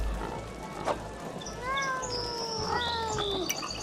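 A cat in the video game Sir Whoopass lets out a drawn-out, wavering meow and then a second rising-and-falling cry over a steady background hum, with no talking.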